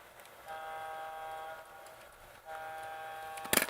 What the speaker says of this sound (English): Hit the train horn.